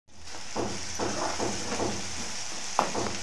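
Tomato frying in a pan, a steady close sizzle with soft stirring scrapes and one brief sharper crackle near the end.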